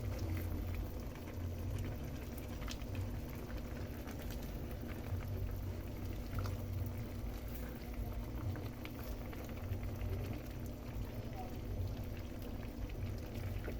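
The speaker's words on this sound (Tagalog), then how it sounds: "Kumulo na ang ating gulay." A pot of squash, string beans and shrimp simmers in coconut milk with a soft, steady bubbling and a low hum, faint and close, and a voice speaks quietly under it.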